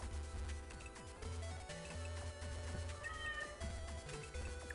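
A cat meows a few times in the game Mega Man Battle Network 2, the calls rising and falling under loud, continuous chiptune music.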